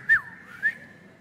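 A person whistles two short, clear notes, each falling in pitch and about half a second apart, then holds a faint steady tone in a quiet room.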